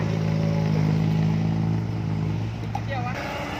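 A motorcycle with a loud exhaust holds a steady, droning rev for a few seconds, then drops lower and eases off near the end.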